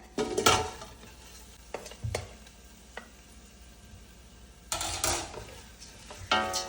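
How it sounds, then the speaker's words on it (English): Rice tipped into melted butter and fried in a pan, bursts of rattling grains and scraping stirs between quieter stretches of soft sizzling, close up. "And fry the rice until it is slightly brown."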